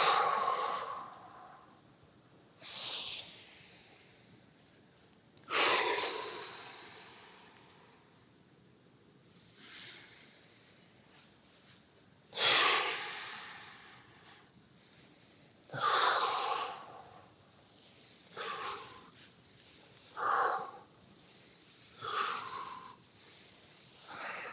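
Slow, forceful breaths exhaled during a seated thoracic rotation spine stretch, about nine audible breaths, some sharp and snorting, some long and airy, close and alone with quiet pauses between.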